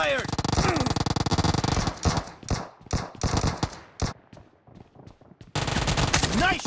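Rapid automatic gunfire in the BGMI battle royale mobile game: dense bursts of close, loud shots that break into scattered single cracks and short volleys, with players talking over the shooting.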